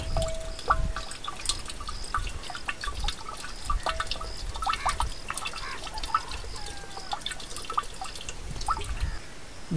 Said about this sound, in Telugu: రెండు లీటర్ల కొబ్బరి నీళ్లు కలుపుకోవాలి.